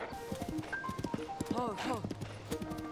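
A horse gallops with quick clip-clop hoofbeats in the video game Zelda: A Link to the Past, heard under a voice talking throughout.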